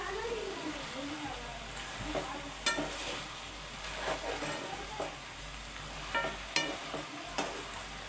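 Tomatoes cook in a pan for a mutton curry, with a steady sizzle and frying hiss. Sharp clinks and scrapes of a spoon stirring against the pan come through now and then, and a faint voice speaks in the background.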